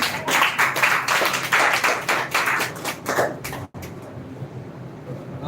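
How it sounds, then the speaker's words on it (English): Audience clapping as the next speaker is called up at an English speech competition, a steady close burst of hands that cuts off sharply, leaving quiet room tone. "Clap for Mr. Vikas Kumar"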